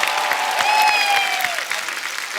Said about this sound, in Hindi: एक बार जोरदार तालियां सलमान भाई के लिए।